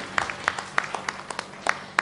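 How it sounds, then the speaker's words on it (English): Sparse, irregular handclaps from a small audience at an evening stage show honouring participants, about eight distinct sharp claps over two seconds, fairly faint against a quiet room. "I want a much huger round of applause"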